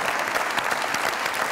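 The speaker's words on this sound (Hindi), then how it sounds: "बहुत सारी तालियां जारा के लिए।" Studio audience of a Pakistani comedy talk show breaks into loud, dense applause, a continuous wash of many hands clapping with no voices on top.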